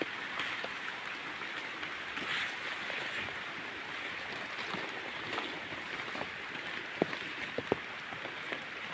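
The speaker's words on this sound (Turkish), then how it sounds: "Yağmur yağıyor" Steady rain patters and hisses throughout in a village garden, with a few louder drips hitting nearby, with no one talking.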